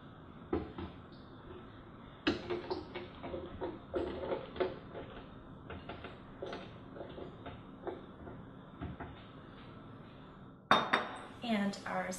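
Tomatoes, vegetables and sea salt dropped and tipped into a blender with clinks and knocks of glass and utensils, close and fairly quiet, irregular thuds spread across the clip.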